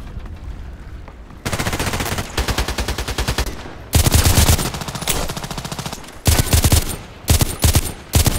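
H&K 416c rifle fire in the shooter game Contract Wars: loud, close bursts of rapid automatic shots, several sustained strings broken by short pauses, ending in a few short choppy bursts, with no talking.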